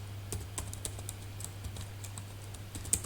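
Steady clatter of typing on a computer keyboard while writing TypeScript code, rapid irregular key clicks close up and fairly quiet, with a low constant hum underneath and no talking.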